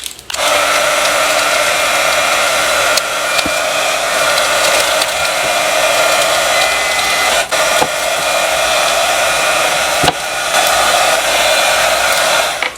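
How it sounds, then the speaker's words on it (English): A heat gun blows steadily and loudly at close range while shrinking shrink wrap around a sublimation mug, a continuous roaring hiss with a few brief dips and knocks. "We're gonna take a heat gun and shrink the shrink wrap."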